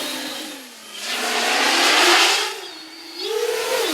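An X-Class FPV quadcopter on Cannonball 800 motors and 12S power screams overhead at full throttle outdoors, a loud whining buzz that swells, dips and climbs again in pitch as it passes.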